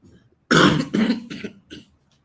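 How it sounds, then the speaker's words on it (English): A few harsh coughs close up, one strong burst followed by three shorter, weaker ones, with near silence around them. "I've been coughing ever since"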